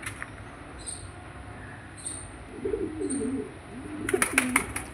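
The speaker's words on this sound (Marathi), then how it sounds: "कबूतर" Pigeons cooing softly inside a coop on a farm with goats, ducks and chickens, low throaty coos rising mid-clip among faint high bird chirps, with a brief burst of sharp clatter near the end.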